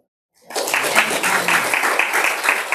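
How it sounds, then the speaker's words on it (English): Audience in a church service breaks into applause after silence, a sudden burst of many hands clapping steadily and fairly close, sustained to the end. "let's give her an applause"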